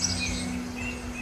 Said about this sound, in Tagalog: maririnig mo yung mga huni ng ibon sa background